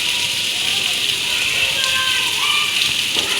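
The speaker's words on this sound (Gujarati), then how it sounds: "એમ તો શરૂ જ છે વરસાદ." Light, steady rain falls during a wet spell, making an even, continuous hiss from start to end with no breaks.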